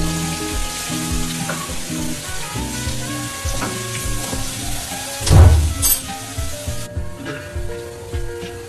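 A teaspoon of garlic ginger paste fries loudly in hot oil, a continuous dense sizzle with a sharp burst of crackling partway through, then settling down.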